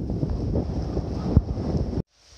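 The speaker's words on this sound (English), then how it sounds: "the wind is ripping" Strong wind rips across a mountain shelter campsite on the Appalachian Trail in New Hampshire, a loud steady roar buffeting the microphone with one sharp gust-thump before cutting off abruptly.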